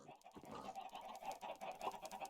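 Minecraft chickens on a modded farm cluck and chirp faintly in short, irregular bursts, quiet and somewhat distant.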